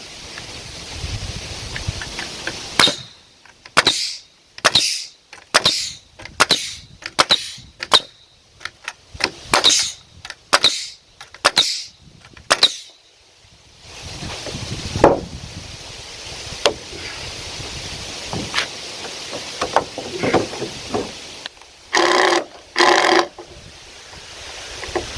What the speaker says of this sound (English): So all I've got now is put some nails in here and see if it works.